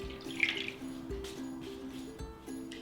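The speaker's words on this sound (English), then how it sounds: "I'm going to pour the water around it" Warm tap water trickles and drips into a baking dish, with soft splashes and a faint liquid gurgle, close by and fairly quiet.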